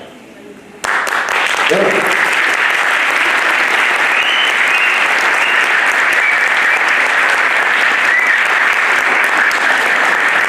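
Large crowd of young people in Manisa applauding at a meeting with a speaker, loud sustained clapping that bursts in after a brief spoken moment and keeps going evenly to the end.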